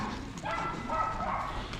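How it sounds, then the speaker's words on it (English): A dog barks somewhere behind a narrow old-town street in Rothenburg ob der Tauber, Germany, in several short, muffled yaps heard at a distance over steady background noise. "Some kind of dog's barking back there."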